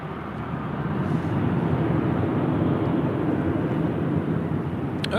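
A Delta Airlines A321 arriving at LAX gives a steady, broad jet roar that holds constant throughout.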